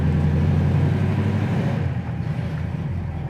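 A 1969 Oldsmobile 442 on a test drive, its engine droning loud and close with a low rumbling roar that holds steady, heard from inside the car.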